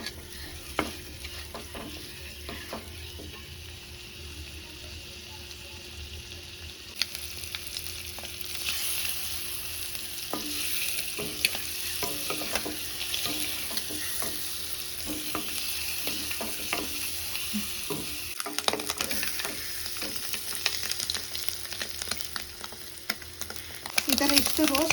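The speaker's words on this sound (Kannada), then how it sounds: "ಚೆನ್ನಾಗಿ ಫ್ರೈ ಆಗಬೇಕಿದು, 1-2 ನಿಮಿಷ" Boiled eggs fry in oil in a pan for an egg curry, giving a steady close sizzle broken by repeated scraping and tapping of a spoon as they are turned. The sound swells louder toward the end, with no voices.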